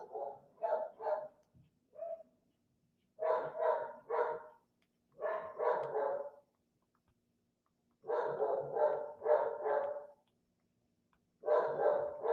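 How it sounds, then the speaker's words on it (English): Several dogs barking in rapid bursts of three to five barks separated by short pauses, moderately close indoors, with no talk over them. "My dogs are barking like crazy."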